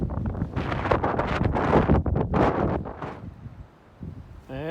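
Wind blowing across the summit of Mount Jackson, gusting loudly against the microphone in uneven roaring surges that die down toward the end, heard alone.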